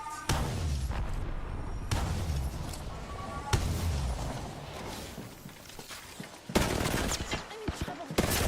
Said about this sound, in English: I'm hearing gunfire from over there.